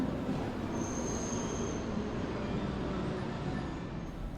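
Steady, dense rumble inside a train heading toward Kyoto, with a faint high wheel squeal passing briefly, constant and enveloping, no voices.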